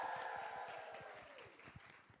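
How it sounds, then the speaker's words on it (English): An audience claps for a speaker at a TikTok creator event. The applause is steady and faint, with crowd noise beneath it and a background tone that slowly fades. "Round of applause for Kenza, please"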